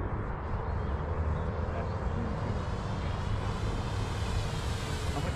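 Flightline Spitfire MK.IXc 1600mm RC model airplane flying past at half throttle, a steady buzzing engine drone mixed with wind noise, fairly loud and continuous throughout.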